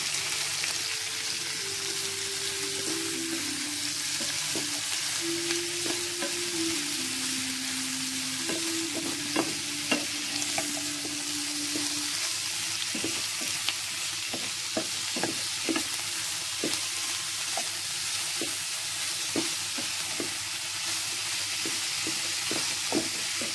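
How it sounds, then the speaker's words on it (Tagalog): Shrimp paste (bagoong, ginamos) sautés with tomato and garlic in a pan, giving a steady close sizzle and frying hiss. Scattered clicks and stirring scrapes sit on top, a faint tonal hum runs early on, and no one speaks. "Luto na lang kami ng bagoong na may kamatis."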